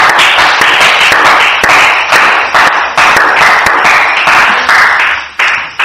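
Loud, close applause from a church congregation after a French Bible reading, rhythmic clapping in pulsing waves that holds steady for several seconds.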